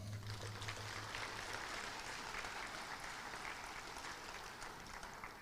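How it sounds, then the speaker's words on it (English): Audience applause fills a hooding ceremony for a pharmacy and health sciences graduating class, steady and sustained throughout with a dense crowd of clapping hands and no speech. "Another round of applause."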